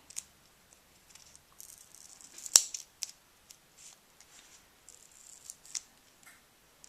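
Scissors snipping thin paper for a small treasure box craft, with quiet, scattered snips and one sharper, louder cut midway, close up and otherwise near silent.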